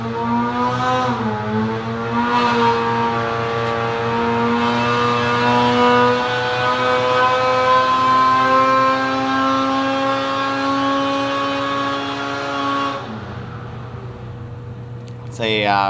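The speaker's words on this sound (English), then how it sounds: "engine's at 95, exhaust is at 345 to start with, so it's basically just an idling sled" Polaris 850 Patriot snowmobile engine fitted with a Bikeman FatAzz pipe on a cold-pipe dyno run: a loud, steady, buzzy engine drone whose pitch climbs gradually, then drops abruptly near the end.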